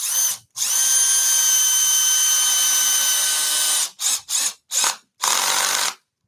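A power drill drives screws into wood for a bar table, a long steady whine lasting several seconds followed by three short bursts and a final run, loud and close with no talking.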